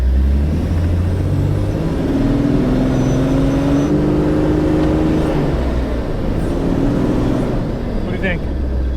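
A car engine is revved up close: a loud, continuous drone whose pitch climbs over a few seconds, then settles back down toward idle.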